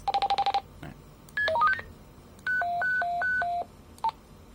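Several series of electronic signalling tones from a Spender TC-245PMR Plus two-way radio: a fast stutter of beeps, a rising run of pitched notes, alternating two-tone chirps, then a final short beep.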